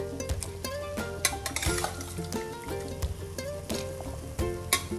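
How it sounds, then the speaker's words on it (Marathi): Boiled chickpeas for Punjabi-style chole, seasoned with a pinch of turmeric, are stirred and sautéed in a pan, giving a steady close sizzle with repeated scraping and clinking of the spoon against the metal throughout. "हे छान परतून घेऊ"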